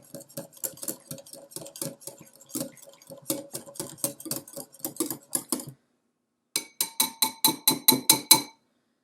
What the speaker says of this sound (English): we're going to whisk the milk in with the egg and cinnamon